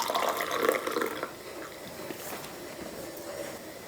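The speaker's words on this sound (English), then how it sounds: "I'm gonna fill it halfway up with coffee." Coffee poured into a cup, a close liquid splash and trickle strongest at first, then settling into a quieter, steady fill without talk.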